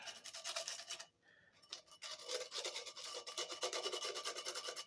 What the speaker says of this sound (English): I'll take a fine grit piece of sandpaper